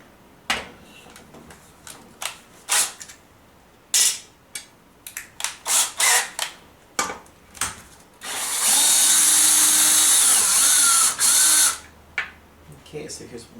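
An Allen key screwdriver works screws loose on an Airfibre 5 during a teardown: a series of close clicks and knocks, then a sustained loud whirring buzz of about three seconds, followed by a couple of final taps.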